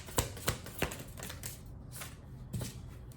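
Tarot cards are shuffled by hand in several quick riffling bursts, close and fairly quiet, with short pauses between them and a final burst near the end.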